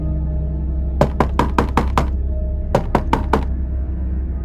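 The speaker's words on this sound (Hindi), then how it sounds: "ऐसा लग रहा था जैसे कोई अंदर से दरवाजा खटखटा रहा हो।" Knocking on a door from inside, a story sound effect: two sharp bursts of raps, about five quick knocks and then four more, loud and close over a steady low hum.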